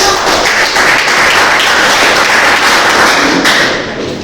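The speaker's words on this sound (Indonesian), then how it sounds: "Beri tepuk tangan untuk sama-sama." A crowd claps steadily and loudly, a dense unbroken patter of many hands that eases off slightly at the very end.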